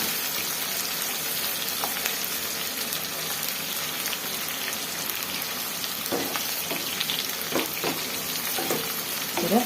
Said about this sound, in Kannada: ಚೆನ್ನಾಗಿ ಫ್ರೈ ಮಾಡ್ಕೊಳ್ಳೋಣ. ಈರುಳ್ಳಿ ಸ್ವಲ್ಪ ಒಂಚೂರು ಬ್ರೌನ್ ಕಲರ್ ಆಗೋವರೆಗೂ.